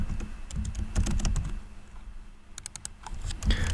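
Typing on a computer keyboard at a desk while building a responsive navigation design in Figma, with bursts of quick, close key clicks, a brief pause, then more rapid clatter over a low background hum.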